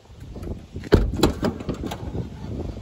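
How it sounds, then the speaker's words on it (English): The power sliding door of a 2007 Honda Odyssey minivan runs under its motor with a sharp latch thunk and some clicks, then a steady whirring drone, recorded close and without talk. "Power doors work as they should."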